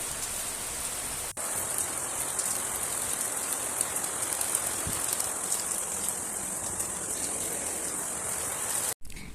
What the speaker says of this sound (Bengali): একদম বৃষ্টি পড়ার সাথে সাথে ব্যালকনিতে পানি ঢুকে যায়